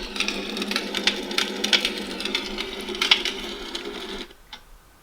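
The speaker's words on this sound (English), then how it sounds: "This is burning fire." Crackling fire from a sleep sound machine: irregular sharp pops and snaps over a steady hiss, moderately loud and close, cutting off abruptly near the end.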